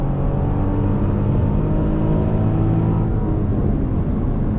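A 2022 Genesis GV70 Sport's engine pulls under throttle as a loud, steady drone that builds slightly in pitch, heard from inside the SUV without any talk over it.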